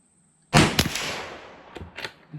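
A single loud rifle shot from a Mossberg Patriot in 350 Legend firing 180 grain ammunition, a sharp close blast with a decaying echo and a couple of fainter thuds after.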